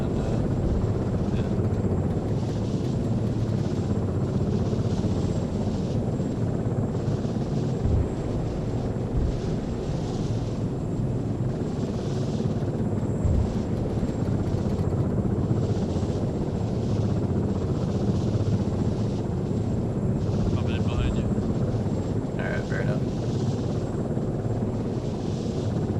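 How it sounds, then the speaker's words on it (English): Apache helicopters flying past in the military video game Arma 3, a constant dense rotor and engine drone with pulsing, throbbing blade chop and a few brief higher chirps near the end. "Look at him below flyby with the Apaches."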